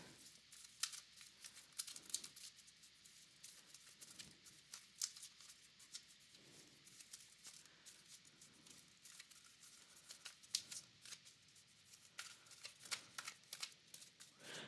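Tarot cards are shuffled for a reading in a continuous, close riffling and rustling that lasts throughout, with crisp flicks and slaps of the cards.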